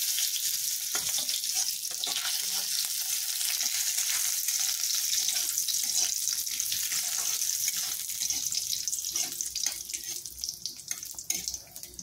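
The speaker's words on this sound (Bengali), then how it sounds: "এবার আমি দিয়ে দিচ্ছি ওই তেলের মধ্যেই কাজু" Cashews frying in hot oil over lowered heat, with a steady bright sizzle and crackle that runs close and unbroken for the whole stretch and has no talk over it.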